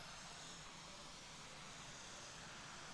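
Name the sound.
radio-controlled model Lancer jet slowing down, circling over runway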